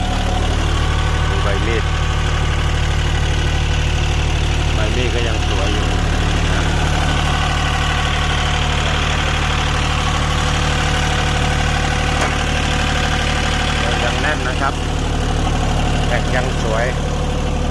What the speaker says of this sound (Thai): ยันมา YB 20 เป็นเก่าญี่ปุ่นนะครับคันนี้ เครื่องยนต์ดีเซล3สูบ